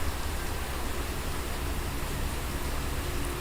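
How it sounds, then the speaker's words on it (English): Hard rain drums steadily on a tin roof and splashes onto concrete, a dense, unbroken hiss that stays even and fairly loud from start to finish with no pauses. "the white noise interference is hard rain hitting the tin roof and then hitting the concrete out there"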